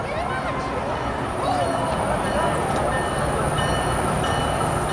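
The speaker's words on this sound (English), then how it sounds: "We got the P676 train coming." P676 train approaching at Dania Beach, Florida, a loud continuous rumble of rolling cars with faint wheel squeal, voices talking intermittently over it.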